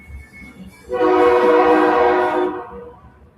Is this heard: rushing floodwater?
no